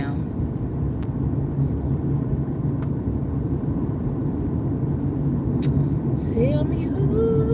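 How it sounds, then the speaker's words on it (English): A car drives through Orange Mound, heard as a steady low road and engine rumble from inside the cabin with a few faint clicks, and a brief voice near the end. "I'm driving through Orange Mound."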